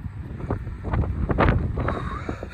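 Wind buffets an outdoor microphone with a steady low rumble and gusty swells, loudest around the middle, near a parked fleet with trailers, alone with no talk.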